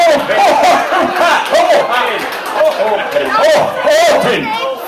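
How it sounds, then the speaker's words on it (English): A lively audience cheers and chatters loudly for an 81-year-old man on stage, a dense continuous crowd roar with shouts and a few claps rising and falling throughout. "give him a cheer"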